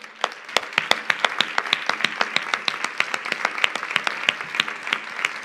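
Audience at the closing ceremony of a Catalan congress claps steadily, a moderate round of applause with distinct individual claps standing out, continuing evenly throughout.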